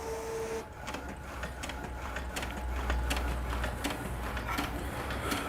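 An inkjet or dye-sublimation printer runs a print for a Chromaluxe panel, giving a steady mechanical whir with repeated clicks and ratcheting ticks at close range, with no talking.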